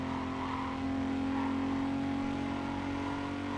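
A car engine in the Need for Speed Carbon racing game drones and revs steadily at close range, a strong sustained mechanical hum with no voices over it.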